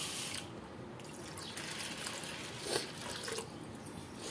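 Water sloshing and trickling as soaked pearl millet and urad dal are washed by hand, a steady close wet wash with a few louder splashes toward the end.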